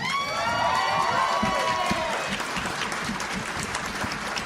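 An audience at a GeekShow live event applauds with loud, sustained, dense clapping and a few cheers, with a voice shouting briefly over it at the start.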